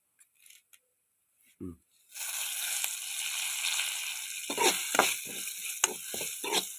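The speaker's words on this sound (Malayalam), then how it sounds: "കറിവേപ്പില പൊരിയുമ്പോൾ" After near silence, a steady hiss of curry leaves and coconut frying in hot oil starts abruptly, with occasional scrapes and taps of stirring.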